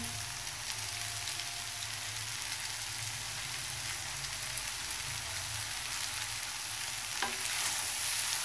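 Steady low sizzle of noodles frying in a pan after soy sauce and tomato sauce are added, a continuous hiss with faint stirring and no voices.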